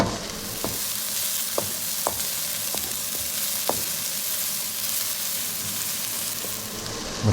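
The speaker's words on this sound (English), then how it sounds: "just dump all these jalapenos in there. And toss it around" Jalapenos sauteing in a hot pan, a continuous close sizzle broken by several sharp clacks and knocks as the peppers are tossed and stirred.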